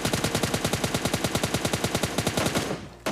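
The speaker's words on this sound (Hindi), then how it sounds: "अब जरा गन शॉट्स की आवाज़ सुनना।" Rapid automatic gunfire rattles nonstop in a battle royale video game, around two dozen evenly spaced shots in a tight rhythm, loud and close, stopping abruptly near the end.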